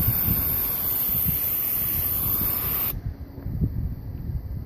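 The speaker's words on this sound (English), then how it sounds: "We decided to pressure wash the camper. I started on the roof." A pressure washer sprays the roof of a camper, giving a steady, loud rushing hiss that continues after an abrupt cut about midway, when it becomes somewhat duller and more uneven.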